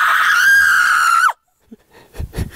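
A person lets out a loud, sustained high-pitched scream lasting over a second and ending abruptly, followed by brief silence and then faint talk and movement.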